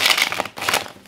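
Quick papery riffling and crinkling of tarot cards being shuffled, close and brisk, two short bursts separated by a brief pause.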